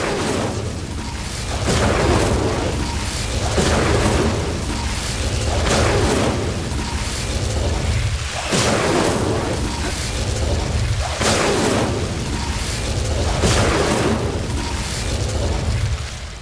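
Incendio fire spells cast in Hogwarts Legacy, a repeating series of loud whooshing booms and bursts at roughly two-second intervals, close and forceful.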